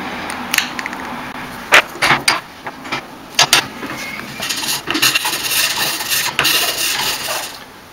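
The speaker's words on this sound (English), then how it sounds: "So what I want to do is take a file. I just want to flatten this edge right here." A hand file rasps along a wooden edge to flatten it, giving irregular scraping strokes with sharp clacks and knocks, close and fairly loud, then a steadier rubbing scrape toward the end.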